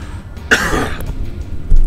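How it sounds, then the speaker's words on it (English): A single loud, harsh cough close up, followed by a brief throat clear, with a quiet room in between. "I have to cough really badly"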